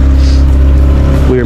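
Boat engine at sea on a fishing trip runs loud and close with a deep steady drone, easing slightly as it slows.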